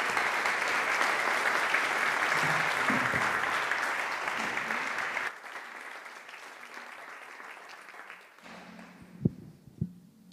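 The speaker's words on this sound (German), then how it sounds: "Bitte klatschen Sie sie ganz herzlich auf diese Bühne." Audience applause welcoming an author onto the stage at a German nonfiction book award event, a loud, even wash of clapping for about five seconds that drops off abruptly, leaving faint scattered claps and a couple of sharp knocks near the microphone.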